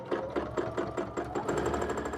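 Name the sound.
sewing machine free-motion quilting, stippling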